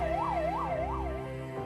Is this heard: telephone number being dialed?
no